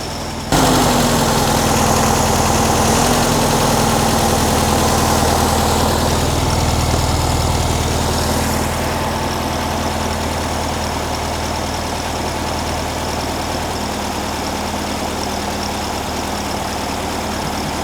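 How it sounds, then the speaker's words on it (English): A 1957 VW Beetle air-cooled engine idling steadily while warming up on the choke, a close, even rumble that settles slightly lower partway through as it comes off the choke, around 1140 rpm. "I'm just gonna let it warm up."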